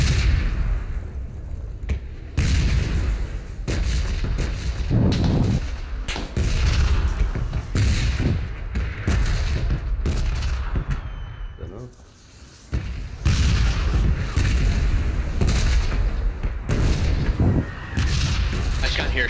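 Heavy PUBG gunfire booms repeatedly over about twenty seconds, loud bursts of rifle shots and blasts with a brief lull midway, while players talk over the shooting.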